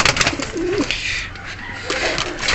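A pigeon coos softly once or twice against a noisy, rustling background, the low burbling call close but not loud.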